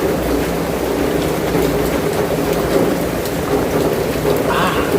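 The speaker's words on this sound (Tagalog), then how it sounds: "Ulan." Heavy rain pours steadily down, a dense continuous hiss with a low rumbling undertone, loud and close throughout.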